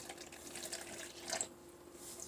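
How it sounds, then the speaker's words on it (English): Salt water, tap water mixed with plenty of salt, pours into a container for a homemade water-and-metal electricity setup; a faint, steady trickling stream with a brief splashier surge midway, no talking. "And then just fill the water up all the way"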